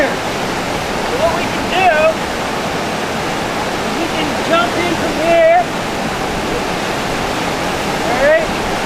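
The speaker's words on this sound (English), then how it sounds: "So you can see the white water going down that way nice and quick" White water rapids on a river in Newfoundland rush in a loud, constant roar that fills the whole stretch, with a few faint high calls briefly cutting through the steady wash.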